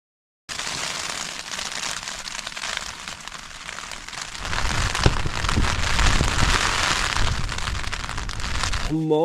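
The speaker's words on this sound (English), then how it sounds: "the rains come on about 2 o'clock, and when the rains come, the wind picked up" Rain drums on a tent overnight at a winter camp in the Southern Uplands, a dense steady patter that grows heavier and louder partway through as the downpour intensifies, close and enveloping.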